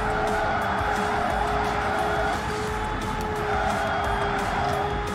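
Car drifting in the Xenon Racer video game, sustained tire squeal over a steady, loud engine tone, continuous for the whole stretch with occasional short bursts of noise.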